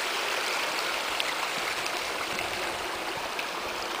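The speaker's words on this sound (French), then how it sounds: "Le petit ruisseau qui dévale les pentes." Water rushes and burbles continuously in a small stream, a steady broadband hiss with faint splashes, close and unbroken throughout.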